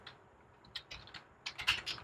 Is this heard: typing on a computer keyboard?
yes